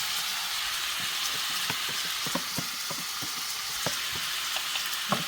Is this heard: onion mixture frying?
yes